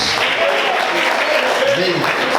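Church congregation clapping in praise during a Portuguese-language sermon, a steady, full burst of applause that continues throughout, with a voice faintly audible beneath it.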